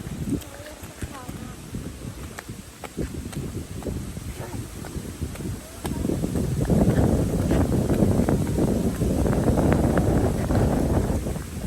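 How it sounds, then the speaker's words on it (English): Wind blowing outdoors at a coffee farm in Cavite, Philippines, a low rumbling gust buffeting the microphone that grows stronger halfway through, with footsteps and talking mixed in. "It's windy out here."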